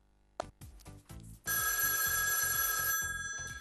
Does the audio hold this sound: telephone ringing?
yes